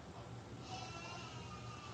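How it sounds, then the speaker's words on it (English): A goat-like sheep lets out a single drawn-out bleat, fairly faint against steady background noise. "It's a sheep that looks like a goat, and her name, I think that's Geep"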